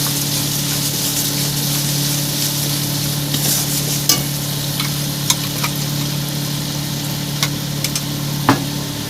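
Slit green chillies stirred into a mustard hilsa curry in a pan, a bubbling sizzle with a low steady hum underneath and several sharp scraping clacks from the spoon.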